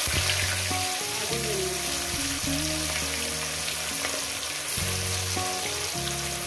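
Rohu fish pieces fry in hot oil, a steady loud sizzle running throughout, with clattering utensil and pan sounds layered on top.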